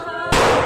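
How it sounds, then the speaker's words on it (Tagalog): A single sharp gunshot on a school campus in Tacloban City cracks out suddenly after a moment of quieter sound, loud and close, with its roar carrying on to the end. "umalingaw-ngaw na ang putok ng baril."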